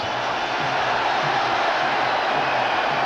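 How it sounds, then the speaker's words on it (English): The crowd in a boxing arena cheers near the end of round four of an IBF heavyweight title fight. The roar is steady and dense, with no breaks, and no single voice stands out. "The crowd into it here as we come to the close of round number 4"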